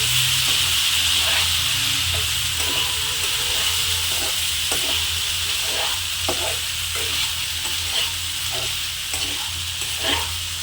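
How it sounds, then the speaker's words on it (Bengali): Curry being stirred in a frying pan after a little water goes in, loud continuous sizzle and hiss with regular scraping strokes of the spoon throughout, no talking. "অল্প জল দিলাম, এটা ভালোভাবে আবার নেড়ে চেড়ে নেব।"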